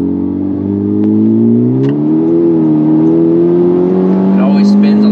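A 10th-generation Honda Civic Type R FK8, tuned with a Cobb Accessport on a 93-octane map, accelerates hard, its engine note climbing loudly and steadily close by.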